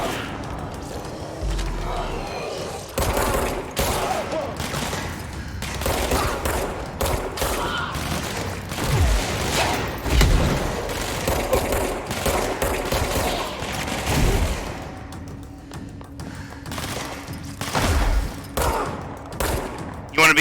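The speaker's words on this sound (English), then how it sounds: "That's a lot of fucking rockets coming towards me." Incoming rockets and gunfire in the video game Control: dense bursts of shots and booming impacts in rapid, uneven clusters, loud and close, with brief lulls between volleys.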